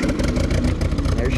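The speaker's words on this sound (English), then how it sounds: "let's see about getting her started here" A Ford 8N tractor engine catches and runs with a close, rough, sputtering chug that fills the short moment.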